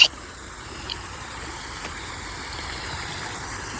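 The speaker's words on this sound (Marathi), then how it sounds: "ते बघा इकडून पाणी आरपार होतंय." Water flows through a small dammed forest stream as a steady, fairly quiet rushing trickle, continuous and even in level, with no voices over it.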